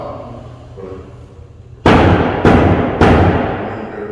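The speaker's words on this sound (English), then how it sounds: "Right, bang it 3 times hard." Three hard, loud bangs of wood struck against wood to open a colonial courthouse session, landing at a steady, slightly irregular pace after a stretch of quiet room murmur.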